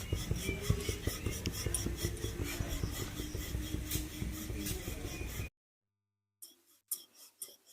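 A rolling pin works potato-stuffed aloo paratha dough with a steady, rhythmic rasping rub for several seconds, then stops abruptly. After a brief silence come a few faint scrapes.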